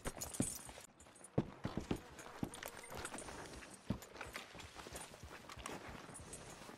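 Horse hooves in the video game Red Dead Redemption 2 clip-clop in an uneven walking rhythm, with sharp individual hoof strikes over a busy outdoor background.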